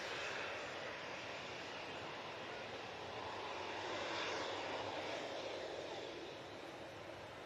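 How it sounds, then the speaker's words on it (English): A TAP Portugal Embraer airliner landing at Manchester Airport on runway 23 left gives a steady, broad engine roar that swells slightly midway and stays loud throughout, with no voices. "Tap Portugal, Embraer now coming on to 2-3 left."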